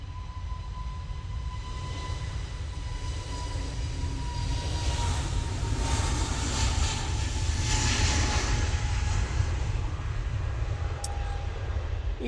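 An easyJet airliner departs Manchester Airport bound for Geneva, its steady jet roar rumbling at a distance, swelling slightly midway and holding without any talk.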